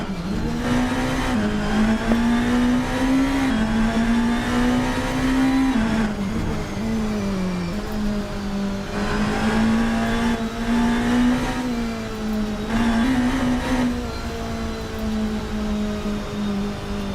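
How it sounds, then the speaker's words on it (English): DTM race car engines heard onboard during a lap in the racing game Assetto Corsa, a loud, steady high-pitched drone that rises through each gear and drops sharply at every shift, several times over, with no talking. "let's actually jump on board and get another audio lap, because these engines sound"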